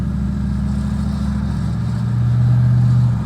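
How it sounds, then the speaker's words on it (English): A car with a 4R75 automatic transmission pulls smoothly under a steady mid-pitched engine drone, revs climbing briefly toward the end as it shifts up through the gears. "You will not believe how smooth this thing is shifting."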